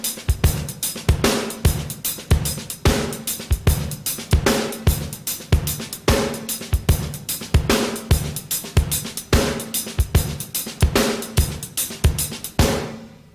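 Drum kit playing a shuffle basic groove, a steady half-time shuffle with loud backbeats, bass drum figure and ghosted triplet hi-hat, close and alone for the whole stretch.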